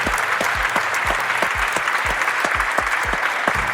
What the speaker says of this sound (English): if I can ask the audience, not just for a round of applause, but for another cheer